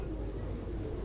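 Pigeon cooing on a rooftop loft, a continuous low throaty murmur from several birds close by, steady and moderately loud with no talk.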